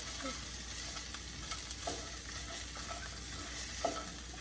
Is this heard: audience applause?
no